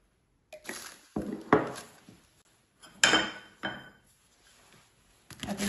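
Chicken popcorn tossed with buffalo sauce in a bowl, giving a few separate bursts of clinking and scraping against the dish, moderately close, with quiet gaps between them and no voices.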